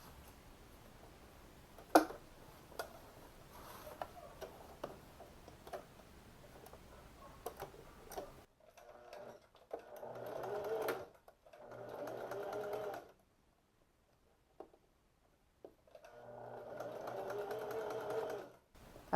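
Stitching the front waistband of pleated shorts, a sewing machine first ticks through slow, stitch-by-stitch taps, then runs in several steady bursts separated by brief pauses.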